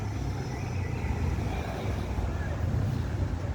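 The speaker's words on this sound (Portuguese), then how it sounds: "tá uma ventania aqui, viu?" Strong wind blows outdoors, buffeting the microphone with a constant low rumble and roar for the whole stretch.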